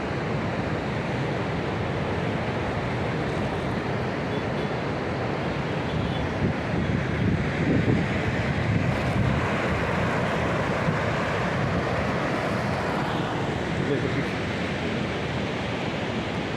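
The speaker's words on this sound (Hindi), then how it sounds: "ये शोर जो आप सुन रहे हो ना, ये गंगा मैया का है।" Loud, continuous roar of the Ganges rushing after release from a dam, near a rope bridge in the hills at Rishikesh, a dense steady broadband wash with no voices over it.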